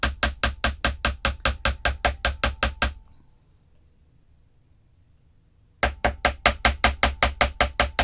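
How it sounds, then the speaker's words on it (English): Hammer striking wire to shape adjustable bangles at a bead table: a fast, steady run of sharp metallic taps, a pause of near silence, then the even tapping resumes, close and clear. "I'm going to hammer just a tiny bit more."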